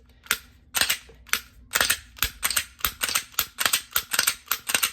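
A brand-new Glock pistol fired in a rapid string of about a dozen sharp, crisp reports at a fast, slightly uneven rhythm, each shot short and punchy.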